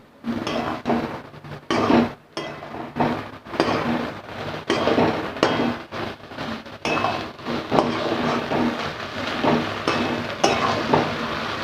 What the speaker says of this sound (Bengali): দিয়ে শাকটা আর একটু নেড়ে নিই